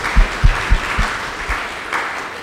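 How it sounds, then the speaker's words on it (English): Audience applause after a talk at a church gathering, a brief burst of clapping with a few heavy beats near the start that fades out. "let's just give a round of an applause for what our professor has done"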